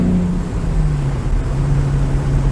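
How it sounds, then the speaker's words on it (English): Open exhaust on a cheap BMW sports car, a loud, steady engine drone holding one pitch without pause, close up and alone with no voices. "As you can hear, with that open exhaust, this thing really sings."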